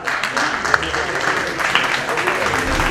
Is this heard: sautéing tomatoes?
no